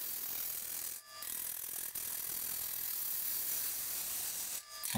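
Gouge taking heavy cuts on a honey locust burl bowl spinning on a lathe, a dense continuous hissing, rasping shear of wood at close range, briefly broken twice as the tool lifts off.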